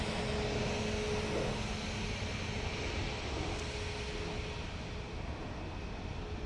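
Emirates flight EK161 from Dubai, an airliner landing at Dublin Airport, a broad continuous engine roar heard from a distance, steady and fairly faint with a low rumble.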